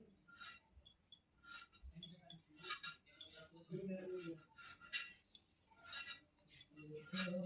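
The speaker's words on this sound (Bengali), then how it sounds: "এবার মাছটা এরকম একটু কেটে নেবো যাতে মাছের ভিতর তেল লবণ ভালো করে যায়" A knife cuts into fresh whole fish, giving soft, irregular clinks and scrapes against a plate or board, faint and close, with talking in between.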